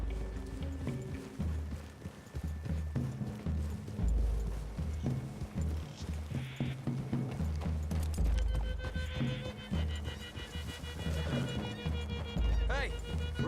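Horse hooves clip-clop along a forest trail through the trees in Red Dead Redemption 2, a steady rhythmic patter underneath a dense mix of game music, ambient noise and voices talking throughout.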